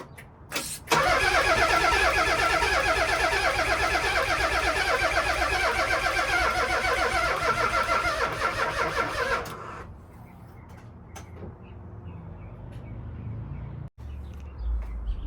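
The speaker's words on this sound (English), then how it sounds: "it's just cranking" A Nissan Z32 twin turbo engine cranks over steadily for about nine seconds without firing, loud and close, then stops, leaving faint background sound and a brief click near the end.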